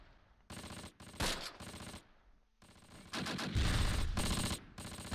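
Gunfire in the Close Combat war game set in 1944: bursts of rapid machine-gun fire and single shots in several volleys separated by brief pauses, fairly sharp and mid-distance.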